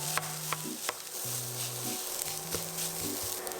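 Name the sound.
stir-frying rice with cabbage in a pan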